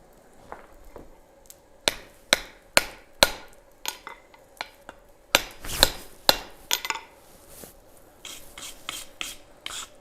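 Metal being hammered on an anvil during a blacksmithing session, with sharp, close strikes in uneven rhythm: single blows, then a quick run of hits and a final cluster of lighter taps.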